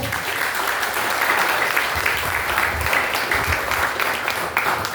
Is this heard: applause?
yes